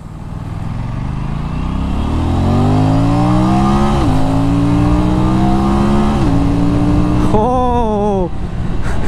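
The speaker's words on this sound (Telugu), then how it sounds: "ఓ సౌండ్ చాలా బాగుంది బండిదైతే" An Aprilia RS 457 motorcycle with a 270-degree parallel-twin engine accelerates hard and loud, its pitch climbing through several gears with short dips at each shift, then a quick blip of revs near the end.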